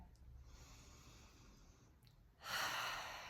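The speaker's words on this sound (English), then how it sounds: "taking a deep breath" A person draws a deep breath through the nose, a soft inhale followed by a louder, airy exhale close to the microphone, with no talking.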